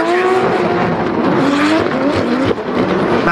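A drift car races hard around the Rockingham circuit during a British Drift Championship round: a loud, sustained engine roar with shifting pitch, tire squeal and revving. The car is close throughout with no talk.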